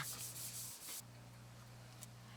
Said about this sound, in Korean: 전면을 고운 사포로 갈아내는 마무리 작업에 들어간다